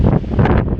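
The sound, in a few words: wind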